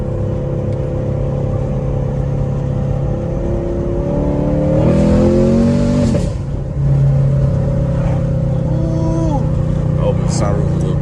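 A straight-piped Chevrolet Camaro SS at night, its engine droning loudly from inside the car, rising through a strong rev and dropping back to a deep rumble while people talk over it.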